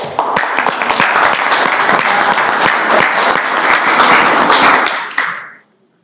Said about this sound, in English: Give Sienna a round of applause.